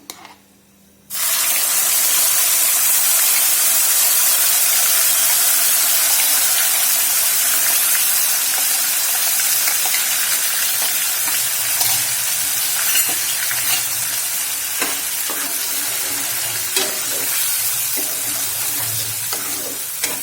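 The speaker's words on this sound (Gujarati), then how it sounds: "હવે આપણે જે મરચાં અને ડુંગળી ટામેટાની પેસ્ટ તૈયાર કરીને રાખી છે તે આપણે કઢાઈની અંદર લઈ લઈશું." Chili, onion and tomato paste sizzles and fries loudly in a hot kadai for a bottle gourd paneer curry, a steady close crackle that starts suddenly after a brief quiet moment and continues without pause.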